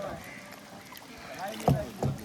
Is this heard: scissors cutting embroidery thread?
no